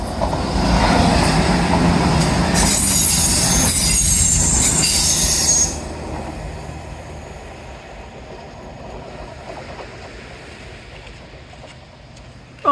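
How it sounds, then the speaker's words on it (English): A steam train arriving on a pier railway: loud rumbling wheels with high squealing from about three to six seconds, then a quieter, fading rattle as it slows. "that was the last train of the day"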